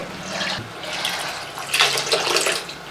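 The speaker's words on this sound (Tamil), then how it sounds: "இப்போ ஒரு அரை டம்ளர் தண்ணி சேர்த்து இதை நல்லா கழுவி உள்ள சேர்த்துக்கலாங்க" Water from a tap runs and splashes into a cooking vessel being rinsed in a kitchen, a steady close, moderately loud gush that swells and continues for a few seconds, with no talking.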